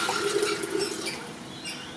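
Water runs into a kettle, distilled water poured in a continuous, close trickle with a gurgling, slightly rising tone as the vessel fills.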